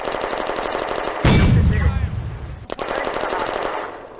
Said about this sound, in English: Ziegler's Panzer III destroys a 45mm anti-tank gun by HE shell.